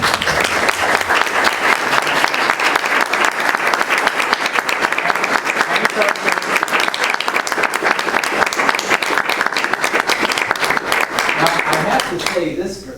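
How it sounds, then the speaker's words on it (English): A room full of people at a GEVSD school board meeting claps for a student team's run at state: loud, dense, sustained applause lasting over ten seconds before tapering off abruptly at the end. "kudos and a big round of applause for their run at state"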